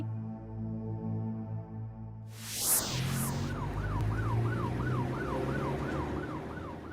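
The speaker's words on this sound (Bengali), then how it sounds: "ওই তো অ্যাম্বুলেন্স গেল" An ambulance siren wails on a rough road, rising and falling in a steady repeating cycle after a sudden loud onset that cuts through low rumbling traffic.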